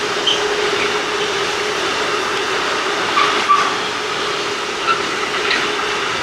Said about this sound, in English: Just wait for the train to pass.